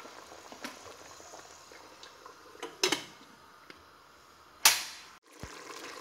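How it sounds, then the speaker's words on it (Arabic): Olives boiling in a pot of water while cooking a carrot, garlic and olive dish, heard as a low steady bubbling hiss broken by a few sharp pops and crackles. "هذا الزيتون درتو يغلي"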